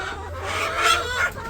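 Village chickens cluck close by while pecking at feed, a few soft, irregular calls rising over a low steady background hum.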